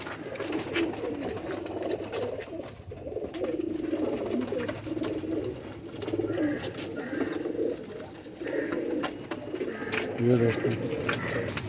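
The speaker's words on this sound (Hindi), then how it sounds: "देख रहे शिकरे जैसे कबूतर हैं।" Several pigeons coo in low, throaty, repeated rumbles from a breeder's loft collection, steady throughout with a brief louder burst near the end, while someone speaks over them.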